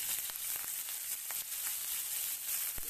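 Chopped curry leaves fry and roast in a pan of hot oil for a semolina chivda snack, giving a steady, fairly quiet hiss with a few faint crackles, with no voices.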